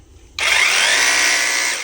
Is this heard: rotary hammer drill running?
yes